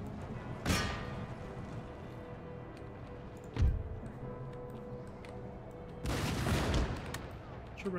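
Volleys of musket fire crackle in Empire Total War, with one sharp burst early, a brief crack midway and a longer ragged volley near the end over a steady low battle rumble.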